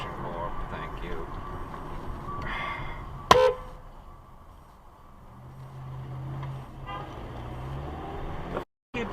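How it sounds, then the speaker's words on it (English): A car horn gives a short, sharp blast amid road traffic at a busy city intersection, loud and brief against the traffic rumble, with a voice talking around it. "You beeping at me"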